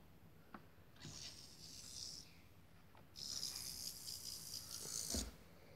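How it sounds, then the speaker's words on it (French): A Pituophis snake vibrates its tail like a rattlesnake, producing faint, close dry buzzing rattles in several bursts of a second or two each, separated by short pauses. "ça fait vraiment un bruit de serpent à sonnette"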